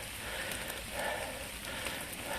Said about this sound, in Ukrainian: Знову дощ і сонце і дощ